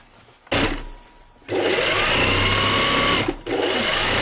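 A serger overlocking the sleeve seam of a Brigand jacket sewn from a kit, its motor whirring up in a short burst, pausing, then running steadily in a fast, buzzing stitch before a brief stop and restart.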